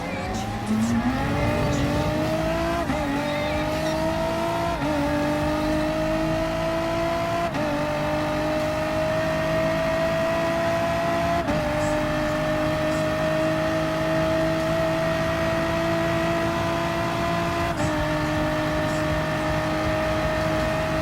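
Race car engines in Gran Turismo Sport, including a Dodge Viper and a Mercedes-Benz SLS AMG GT3, droning loudly and steadily, pitch climbing through gear after gear with brief dips at each shift, no talking.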